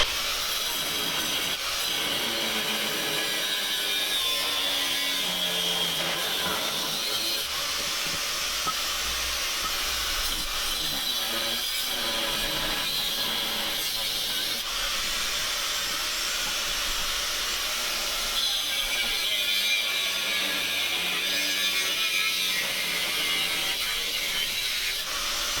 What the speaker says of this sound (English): Angle grinder might not be the best way to cut this, but it's all I got here right now